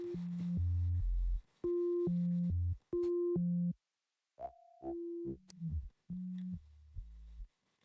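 Synthesizer sound design jam, playing short stepped electronic tones in quick bursts with gaps of silence between, shifting pitch from note to note.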